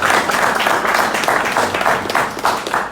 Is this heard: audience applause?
yes